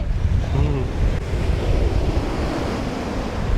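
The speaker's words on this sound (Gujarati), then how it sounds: "બસ ફૂલ એટલે ફૂલ પવન હે ને ફૂલ પવન હે" Strong wind buffets the microphone while sea waves roll onto the beach at Chowpatty, a loud, continuous roar of surf and gusts, with a brief voice early on.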